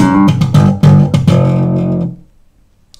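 Bars one and two of a slap bass groove on a solo electric bass: a quick run of snappy, percussive slapped and popped notes with a sustained low tone, close and unaccompanied, fading out at the end.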